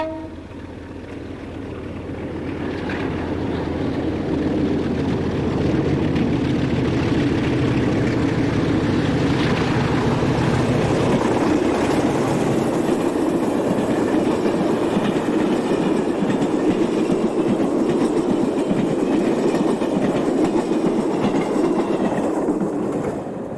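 Portuguese diesel locomotive number 1804 passing Garvão with a passenger train, the engine growl building from quiet as it approaches, then a steady loud rumble and rail clatter of wagons going by, with no voices.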